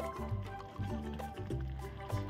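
Soft bubbling and gurgling of bisi bele bath boiling in a pot, a steady close simmer with small pops, no voices.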